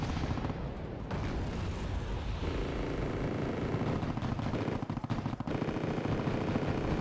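Battlefield-style video game firefight in a fjord map, with sustained gunfire aimed at Humvees: dense, continuous rattling shots and booming hits running throughout at steady loudness, no talking.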